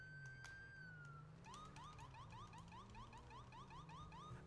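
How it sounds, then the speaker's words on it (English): Police car siren in GTA V with the LSPDFR mod, switched on behind a vehicle; a brief rising wail gives way to a rapid repeating yelp that cycles steadily and loudly over a low engine hum. "I am activating the lights and siren behind the vehicle."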